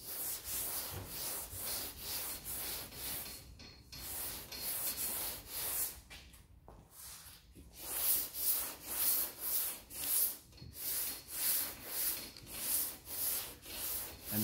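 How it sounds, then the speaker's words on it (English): High build PPG epoxy primer on a Coupe Deville is block sanded with sandpaper in rhythmic back-and-forth strokes, a close, steady scratchy rasp with a brief pause midway. "You kind of just want to let the sandpaper do the work."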